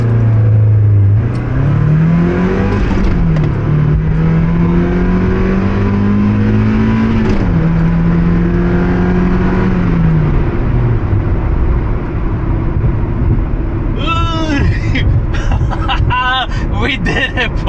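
A 650 hp Camaro ZL1 accelerating hard, its engine note rising through several gears with shifts between them, loud and close from inside the car, easing off near the end as people talk and whoop.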